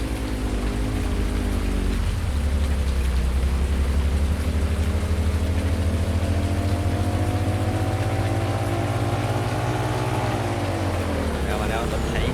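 Steady, dense rain hisses throughout in Farming Simulator 19 while a heavy vehicle's engine drones underneath, shifting pitch as it moves through wet ground.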